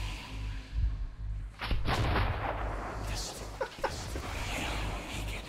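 Gunfire from the video game Metro 2033 Redux, several heavy booming shots spread through the clip over a constant low rumble of game sound, with people talking over it.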